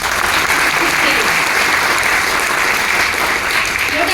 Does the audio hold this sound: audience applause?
yes